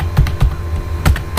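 Keys on a computer keyboard clack close up in quick bursts of several strokes with short pauses between, loud and clear with no voices.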